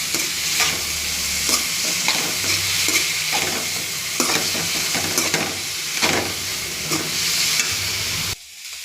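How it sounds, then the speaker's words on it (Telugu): Flat bean pieces being stir-fried in a hot tempering, a steady sizzle under repeated scraping and clinking strokes of a spoon against the pan, close and fairly loud before cutting off abruptly. "పోపులో చిక్కుడుకాయ ముక్కలన్నీ వేసేసామండి ఇంకా అంతా కలిపేసుకుంటే సరిపోతుంది"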